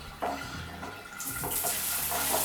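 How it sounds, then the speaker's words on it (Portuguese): A second shower switched on, with water rushing in a steady, hissing stream that grows brighter and fuller partway through, over low background rumble. "agora a gente vai mostrar a diferença de vazão que acontece quando eu ligo um outro chuveiro"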